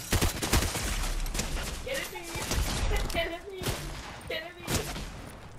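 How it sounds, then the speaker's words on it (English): Rapid gunfire in Fortnite, sharp repeated shots and bursts cracking throughout, with a person talking over the shooting. "We were getting shot up in Fortnite."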